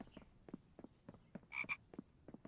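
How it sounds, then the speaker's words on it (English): Frog croaking inside a survival video game: a steady run of short, soft croaks in an uneven pulse, with one brighter, louder double call near the end, fairly quiet throughout. "I hear you, frog, but I think you're pretty safe at the moment"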